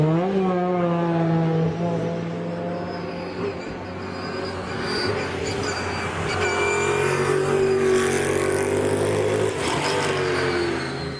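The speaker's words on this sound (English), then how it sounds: "there's always companies like BMW and their gear-whining, let me show you what a right turn is all about, Z4 GT3, working through its shakedown" A BMW Z4 GT3 race car runs through its shakedown, its engine rising and falling in pitch with a strong whine from the gears. It sounds close and loud and builds in intensity toward the end.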